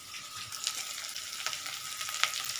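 Potatoes fry in a pan for an aloo dum, giving a steady, close crackling sizzle with scattered sharper pops and no talk.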